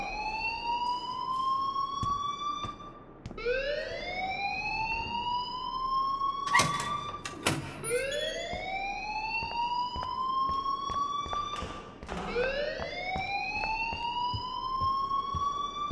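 An alarm wails through a school corridor in the game Life is Strange, a loud rising electronic siren that repeats in long sweeping cycles. A few sharp clicks and bumps come between the sweeps.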